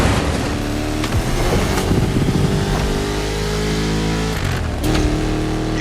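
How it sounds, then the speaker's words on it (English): A 1969 Mustang Boss 429 in the racing game The Crew Motorfest, its V8 engine roaring loudly and continuously, the pitch rising through revs with a brief dip and shift near the end. "You're driving my #1 car, the star of my collection, the 1969 Mustang Boss 429"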